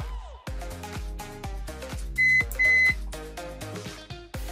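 Two short, steady electronic beeps from a multimeter in continuity buzzer mode, checking an RTX 3060 Ti graphics card, sound over ongoing music, each lasting a fraction of a second with a brief gap between them.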